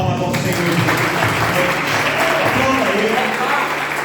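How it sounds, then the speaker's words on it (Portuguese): An Easter evening church congregation claps together in steady, full applause, with voices and musical tones running beneath the clapping throughout. "Dá uma salva de palmas ao Senhor."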